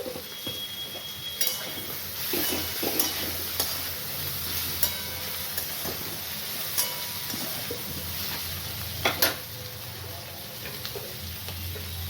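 Steady sizzle of bitter gourd and potatoes frying in a pan, with occasional scraping clicks from stirring, fairly close and continuous.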